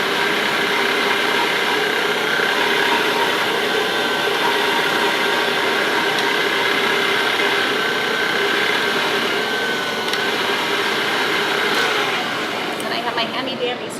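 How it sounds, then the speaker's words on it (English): A dough rolling machine working pierogi dough hums steadily with a constant motorized whir for the whole stretch, close and fairly loud, while a person talks over it. "And then I have a dough rolling machine that I put in."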